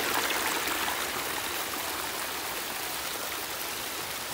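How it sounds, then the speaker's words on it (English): Water trickles and splashes steadily through small rock caves in a pondless garden waterfall, a close, bright, continuous rush with no voices. "Little caves of water dripping through it."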